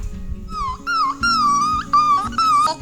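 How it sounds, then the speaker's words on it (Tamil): An injured puppy whimpers and whines close by in a series of high, wavering, drawn-out cries, loud and alone with no talk. "பாவம் இந்த நாய்க்குட்டி, எப்படி இப்படி அடிபட்டதுன்னு தெரியலையே."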